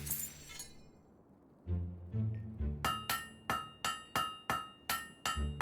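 Blade being hammered at a forge in the video game Fable 3: a lower run of strikes first, then a steady, evenly spaced series of about ten loud, ringing metallic hammer blows on metal.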